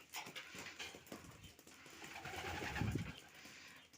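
Soft pigeon cooing close by over a noisy outdoor background, a low throaty coo swelling near the end.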